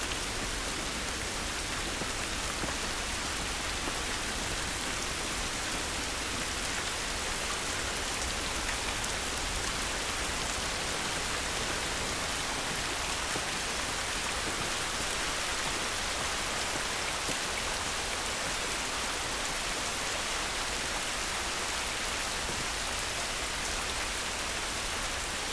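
Steady, dense rain falls outdoors in the video game The Last of Us, a continuous hiss of drops hitting surfaces that stays even and fairly loud throughout, with no voices.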